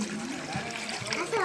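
Water splashing and trickling at the gomukh spring of Nageshwar Temple near Shirpur, a steady nearby wash of flowing water with a voice over it.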